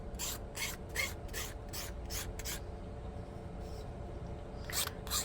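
A rough section of a 3D-printed Hamilton Standard propeller part is rounded out by hand. About eight quick rasping strokes run in an even rhythm, then a pause, then two more strokes, close and fairly quiet.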